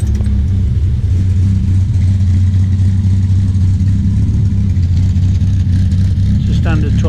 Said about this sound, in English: And we'll just start her up. You can listen to that exhaust.